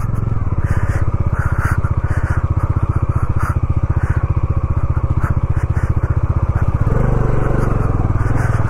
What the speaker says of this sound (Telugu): అరే నా బైకే వస్తుంది, ఆ బైక్ ఎంతరా